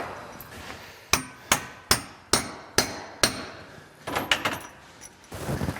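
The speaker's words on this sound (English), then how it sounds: "just in case you miss with a hammer driving them in" A hammer drives threaded studs with about six sharp, ringing metallic blows at an even pace, followed by softer clattering knocks.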